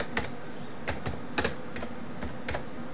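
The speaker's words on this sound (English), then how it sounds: "you type in the command code" Command being typed on a computer keyboard, with a handful of crisp, irregular key clicks tapping out over a few seconds against a quiet room background.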